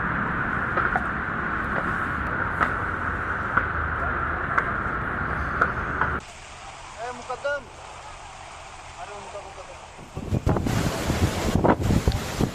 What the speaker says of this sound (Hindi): देखिए किस तरह से तेज हवाओं के साथ अभी भी बारिश का दौर जारी है।